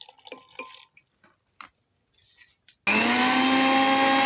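A few soft drips and clinks, then a loud electric grinder blending mixed vegetables with half a cup of water kicks on abruptly and whirs steadily at high speed to the end.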